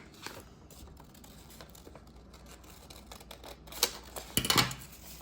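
Scissors snip through paper to cut out a small chibi Taylor Swift figure, giving faint scattered clicks that build into a louder cluster of close crisp cuts near the end, with no talking.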